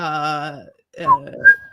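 A man whistles "The Wreck of the Edmund Fitzgerald" in clear sustained notes, pausing briefly before a couple of higher rising phrases; close and fairly loud, no talking.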